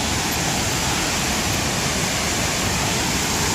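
Waterfall at Lake Sebu, a constant heavy rush of falling water, close and loud, with no breaks or other sounds standing out.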